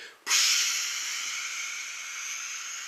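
A voice imitates the labored breathing of a dying person: one long, hissing exhalation that starts abruptly and trails on for over two seconds, close and fairly loud.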